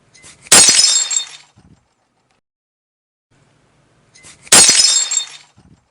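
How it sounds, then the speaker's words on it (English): Glass shatters twice, each a loud, close crash followed by tinkling fragments that fade within about a second, with silence between the two breaks. "shattering glass."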